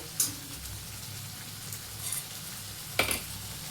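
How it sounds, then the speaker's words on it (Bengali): Spice paste and two spoons of sour yogurt frying in a pan, a low steady sizzle with a couple of brief sharper crackles and stirring scrapes, near and without voices. "এরপর ভালো করে আবার মশলাটা ভাজবো"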